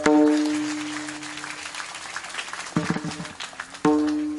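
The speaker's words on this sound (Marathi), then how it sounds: "एकदा जोरदार टाळी वाजवा" Audience clapping at a kirtan gathering, a broad wash of applause that swells and fades across the clip, with brief bursts of noise and tonal sounds breaking in near the end.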